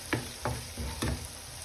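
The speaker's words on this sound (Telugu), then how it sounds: "ఇప్పుడు ప్రాన్స్ కూడా అవుతున్నాయి చూడండి" Prawns frying in a pan, a close steady sizzle with rhythmic stirring scrapes about every third of a second, four strokes in quick succession.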